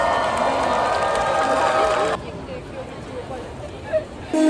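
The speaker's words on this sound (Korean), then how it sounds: "큰 박수로 맞아주세요." A large crowd of university students cheers and applauds loudly at a university cheer squad performance, a dense roar that cuts off abruptly partway through, leaving a quieter murmur before the noise swells again.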